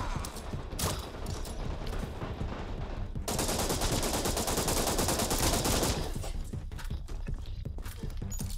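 Rapid gunfire rattles in the video game Resident Evil Re:Verse, with scattered single shots followed by a dense, sustained automatic burst of several seconds, then sporadic shots trailing off.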